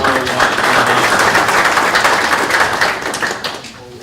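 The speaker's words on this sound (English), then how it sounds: "Round of applause, all of you." An audience at an executive ethics symposium breaks into steady, dense applause that holds for a few seconds and then tapers off near the end.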